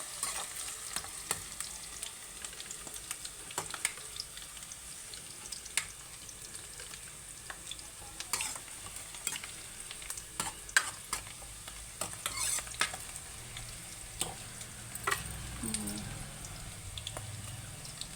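Eggplant curry pieces fry in a pan with a faint, soft sizzle and repeated ladle scrapes and taps scattered throughout, close but quiet, without speech.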